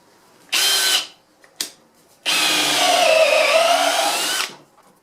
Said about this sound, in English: I'm going to drill an 8mm hole